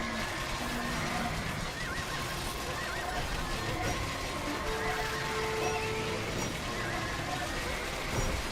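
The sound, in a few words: horses neighing in a video game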